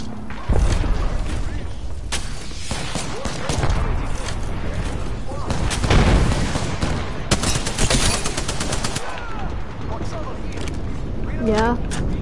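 Apex Legends game battle with a dense, continuous barrage of gunfire, booms and mechanical clatter from an artillery airstrike. A voice talks over the loud, sustained combat noise.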